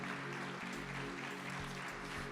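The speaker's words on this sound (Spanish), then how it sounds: "Den un aplauso a Jesús" Congregation at a church service applauding, a steady dense wash of clapping held at an even level, with a low hum underneath and no speech.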